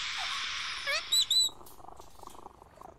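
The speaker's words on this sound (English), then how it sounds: "This cat seems to be in a sorry state." An injured, sorry-looking cat in the PC game Sherlock Holmes vs. Jack the Ripper purrs, a close, steady hiss-like rumble in the first half, with a few brief chirpy tones near the end of it before it fades to a quiet backdrop.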